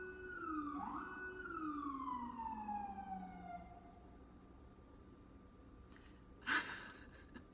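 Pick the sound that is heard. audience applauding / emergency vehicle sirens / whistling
emergency vehicle sirens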